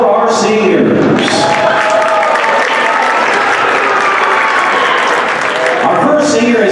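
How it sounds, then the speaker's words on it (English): A crowd at a girls' senior night applauds the seniors, a loud, sustained wash of clapping with some cheering mixed in, holding steady for several seconds before easing slightly at the end. "Let's have a big round of applause for our seniors."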